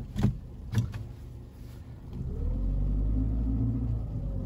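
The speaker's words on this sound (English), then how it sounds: "Now, this time, I'm going to pull away in second gear." A car pulls away in second gear on snow, its engine rumble rising into a steady low drone after a couple of brief thumps, close and alone with no talk.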